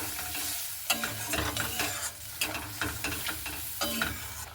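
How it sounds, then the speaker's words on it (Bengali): A pointed gourd (potol) curry gets stirred in the pan just after water goes in, with repeated close scraping strokes over a simmering sizzle. "জল দিয়ে এবার খুব ভালো মতো করে নাড়াচাড়া করে নেবো"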